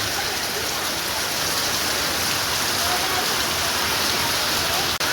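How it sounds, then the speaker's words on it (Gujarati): Heavy rain pours steadily in a dense, constant hiss close by, with no pauses from start to finish. "બફાવાનો વરસાદ ચાલુ થઈ ગયો"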